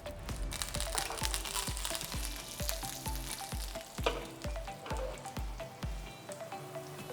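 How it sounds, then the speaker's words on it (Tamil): Dried chili, mustard seeds and curry leaves temper in hot ghee, sizzling steadily with a rapid patter of popping and crackling, close and continuous without talk. "ஒரு ஸ்பெஷல் டச் கொடுக்கறதுக்காக நெய்யில் தான் இதை நம்ம தாளிக்க போகிறோம்"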